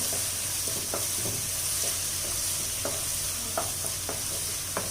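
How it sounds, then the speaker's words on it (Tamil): Ground green masala paste and onions sizzle in a pan as a spoon stirs them, a steady frying hiss broken by soft scraping clicks, close and alone with no talk. "இப்போ அந்த வெங்காயம் வதங்கினோடனே அந்த க்ரீன் மசாலா அரைச்சதை சேர்த்து நல்லா வதக்கிக்கோங்க"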